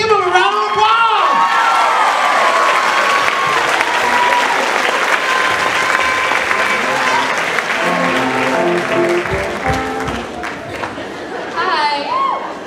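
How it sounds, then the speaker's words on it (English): A theater audience at a community production of Seussical the Musical gives a long, loud round of applause with cheers and chatter once the show ends, fading slightly near the close as a voice returns. "Give him a round of applause."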